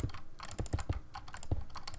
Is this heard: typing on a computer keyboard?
yes